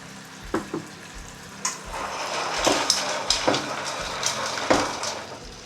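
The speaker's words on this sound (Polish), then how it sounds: "I tak smażę jakieś 5 minut. Czekam, aż się wszystkie otworzą." Mussels fry in wine in a pan, sizzling steadily while they are stirred, with repeated sharp clacks of shells and utensil against the pan, close and clear.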